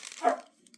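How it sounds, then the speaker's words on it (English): A single short dog bark, a quick muffled woof from a pet indoors at moderate distance, followed by near silence. "Sorry for my dog barking."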